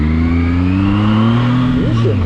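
A ZONTES 703F motorcycle engine holds a steady, close droning idle, then revs up sharply near the end with a rising whine.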